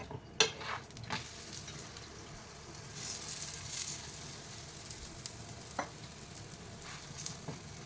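Chapati cooking with oil on a hot pan gives a low, steady sizzle with a few soft clinks and scrapes from a utensil, close and moderately quiet, with no voices.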